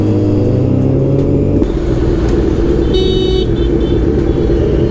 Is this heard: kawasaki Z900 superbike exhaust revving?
yes